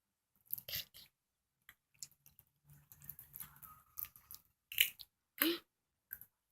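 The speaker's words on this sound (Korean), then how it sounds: "씨도 깨물어 먹어" A child chews grapes and bites into the seeds, giving close, soft crunches and wet mouth clicks in scattered bursts, with a faint murmur of voices between them.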